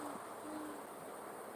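Owl hooting outdoors at night, a few soft, low tonal hoots standing out faintly over a steady background hiss, with no one talking.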